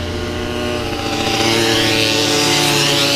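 Mobylette mopeds and scooters climb the Col du Galibier, a loud, close two-stroke engine buzz holding a steady drone that rises in pitch as the machines accelerate past, with no voices.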